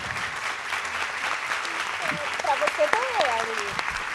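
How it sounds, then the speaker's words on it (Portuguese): An audience at a literary festival panel applauds steadily, fairly soft and even, while a few voices speak over the clapping. "quero pedir muitas palmas para Bianca e Estelle"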